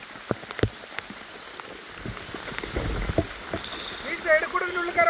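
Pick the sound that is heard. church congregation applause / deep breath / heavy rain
heavy rain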